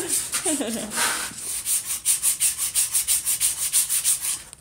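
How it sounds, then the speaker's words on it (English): Repeated rhythmic rubbing strokes of sanding on metal box jaw tongs at a forge, a steady back-and-forth scraping close by, with a brief murmur near the start. "So we'll just give that a little more sanding."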